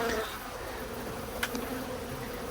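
Honeybees crowd around wet honey frames after extraction, set on cookie sheets behind the hives, a soft steady buzzing close by with a faint click midway, no talk.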